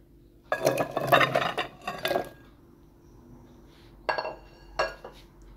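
A large baking dish handled while preparing chicken and potatoes for the oven: a few clattering knocks and scrapes of cookware, close, in two bursts separated by a quiet pause, no talk.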